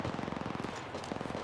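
Rapid automatic gunfire in the mobile battle royale game Apex Legends Mobile, a fast, even burst of close shots that runs for the whole moment with a brief gap midway.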